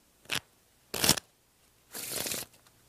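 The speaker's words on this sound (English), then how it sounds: "And that's the waterfall shuffle." A deck of playing cards riffles in a waterfall shuffle: two short crisp bursts followed by a longer cascading flutter, close and clear with no talking.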